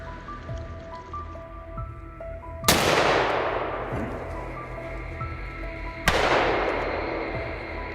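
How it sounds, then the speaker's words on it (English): Two loud, close rifle shots fired at a wild boar in a dry-leaf forest, each a sharp crack with a long decaying tail, a few seconds apart above a quiet outdoor background. "Without hesitation, Travis pulled the trigger at close range."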